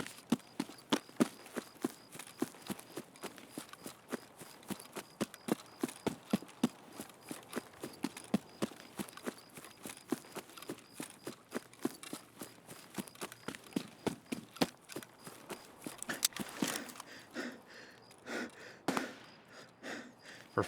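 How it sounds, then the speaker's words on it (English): Footsteps in the video game Escape from Tarkov come as a long run of quick, crisp steps at a brisk walking pace, fairly quiet and close, with a few heavier scuffs near the end. "I swear I heard a second set of footsteps there."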